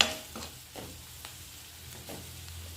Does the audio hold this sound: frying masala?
yes